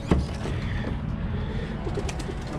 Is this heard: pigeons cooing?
yes